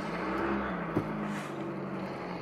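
A Volkswagen Caddy pulling away in first gear, its engine giving a low, fairly quiet steady drone with a faint rising tone and one brief knock.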